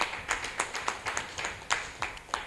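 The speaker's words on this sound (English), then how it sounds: "Round of applause, please." Scattered hand claps from a modest audience at a civil engineering graduate induction ceremony, irregular individual claps fairly faint and close, with no voices.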